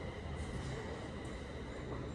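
A train arriving at a station rumbles along the rails with a faint metallic wheel squeal, heard quietly and steadily from a distance.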